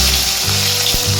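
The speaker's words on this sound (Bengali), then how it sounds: "টমেটোটা কিন্তু ভালো করে ভেজে নিই।" Chopped tomato frying in hot oil in a pan, a brief, close, steady sizzle with a soft bubbling crackle.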